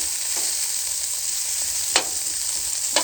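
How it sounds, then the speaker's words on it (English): Burgers frying on a Callow four-burner gas plancha outdoors, broken up with a spatula over a constant hiss of sizzling fat, with a couple of sharp scrapes of metal on the hot plate. "I'm just breaking them up with a little bit with a spatula."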